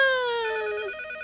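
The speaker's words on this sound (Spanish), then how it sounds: "Ahora queda descansar y esperar a que suene el teléfono." A cartoon telephone rings in a single brief, bright electronic trill that sounds loud and close, its tone sliding slightly downward before fading out.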